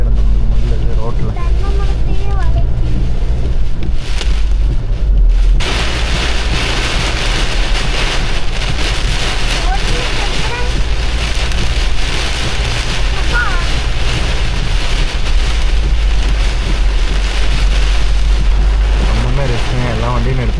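Heavy rain and strong cyclone-like wind roar around a vehicle driving through a storm near Mudumalai, a loud, constant rushing wash with deep rumbling wind buffeting the microphone and a brief quieter moment early on.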